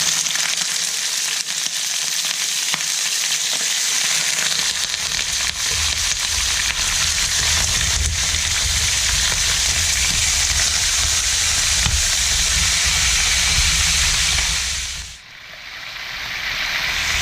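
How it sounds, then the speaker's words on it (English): Chicken pieces frying in a pan for Filipino chicken adobo, a loud continuous sizzle and hiss with occasional stirring, dipping briefly near the end before resuming. "First thing we're going to do is just fry that chicken up."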